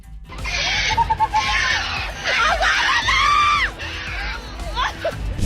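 A girl screams loudly and repeatedly as a caged monkey grabs her hair, shrill cries with short breaks amid agitated crowd noise.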